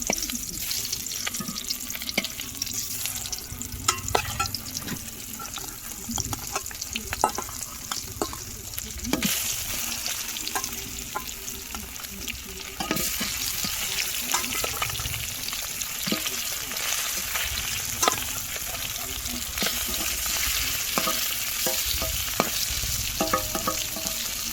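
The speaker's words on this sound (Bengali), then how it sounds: "এখন কিন্তু মাছ ভাজা করব।" Fish fries in hot oil in a village kitchen in the Sundarbans, giving a continuous loud sizzle with occasional stirring and spatter bursts throughout.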